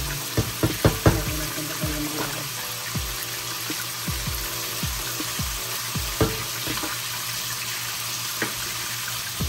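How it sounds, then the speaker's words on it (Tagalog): Tomatoes sauté in a hot pan for Kapampangan-style samgyup, a continuous close sizzle under a quick cluster of spatula knocks early on, then slower scattered scrapes and taps as the soft tomatoes are stirred; no talking. "Aluhin lang natin yung kamatis ng ano na talaga siya."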